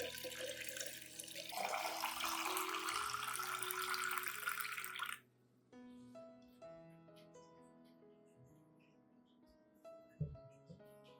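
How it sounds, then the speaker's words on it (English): Clean room-temperature water pours steadily into a turmeric solution for about five seconds, a loud broadband rush that stops abruptly, followed by quieter clinks and faint handling sounds. "Add 1 liter of clean, room temperature water to dilute the solution."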